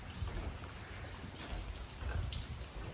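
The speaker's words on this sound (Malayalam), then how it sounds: "നല്ല മഴയൊക്കെ ഉണ്ട് കേട്ടോ" Rain falls steadily outside a hotel in Canada, a dense, even patter of drops on surfaces with soft low rumbles, moderately loud and continuous throughout with no voices.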